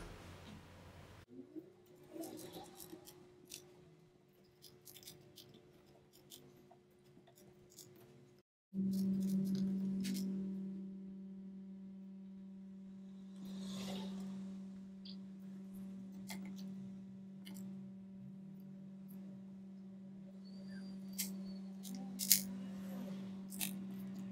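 Screws being driven back into a Sony Vaio laptop during an LCD screen replacement, heard as faint scattered clicks and small metallic ticks over a steady low electrical hum, with no talking.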